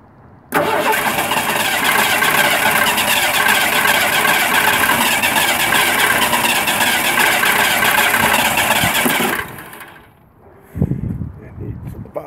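A 232 V6 engine with a rebuilt 2150 carburetor cranks loudly and continuously for about nine seconds without catching, then stops, followed by a brief pause and a short burst of noise at close range.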